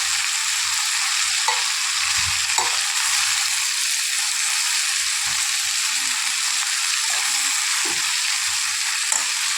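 Coriander leaves hiss and sizzle steadily in a hot pan as they are stirred and fried for chutney, with occasional soft scraping knocks from the stirring and no talking.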